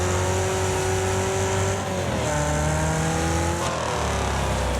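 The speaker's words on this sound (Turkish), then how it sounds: "Arabanın sesi çok güzel değil mi bu arada? Araba bağırıyor." A race car engine in the video game Wreckfest roars loudly and steadily, pitch climbing and dropping through gear shifts, with a synthetic, game-like quality.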